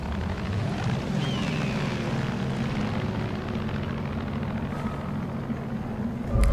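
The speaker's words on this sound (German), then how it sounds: "Ich sag bloß, da kommt jetzt noch ein Heli an" Steady aircraft engine drone, likely a helicopter approaching in Far Cry 5, holds loud and continuous throughout with a brief louder swell at the very end; no talking.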